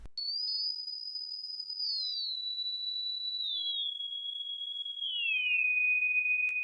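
A pure, clean synthesized sine whistle tone from Serum holds steady notes, gliding smoothly down in pitch step by step, alone and clear.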